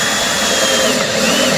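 A power drill whines continuously at close range, driving a screw into a wooden cornhole board, loud and steady through the whole moment with no talk.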